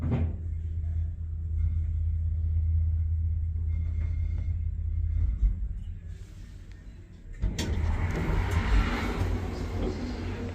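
A 1963 Hitachi elevator runs with a steady low rumble and hum, then a loud clunk of the door or car arriving near the end, followed by brighter mechanical rattling.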